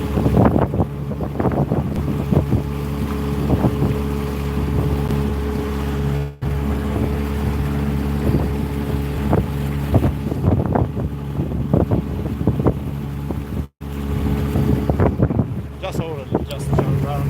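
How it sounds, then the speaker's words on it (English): Wind buffets the microphone on a fishing boat trolling in Darwin Harbor, a loud, steady rumbling roar with an engine drone and water sounds beneath it and brief dropouts, while a voice speaks intermittently. "the wind is still there"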